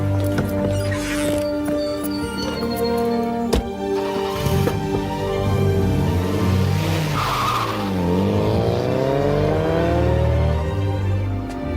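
A car's tires skid and squeal in long sweeping whines that bend up and down over steady engine noise, with a sharp knock partway through, loud and close.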